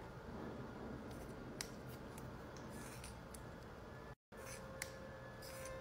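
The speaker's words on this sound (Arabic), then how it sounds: "نقص البلندر ونشوف من داخل هل فيها عفن" Scissors cut slowly through a used makeup beauty blender sponge up close, giving quiet crunchy snips and soft rubbing, with one brief dropout.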